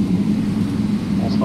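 A steady low drone of an airplane arriving on the runway, continuous and close throughout, with a muffled voice faintly present underneath.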